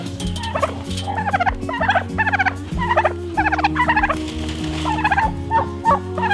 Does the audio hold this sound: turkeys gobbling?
yes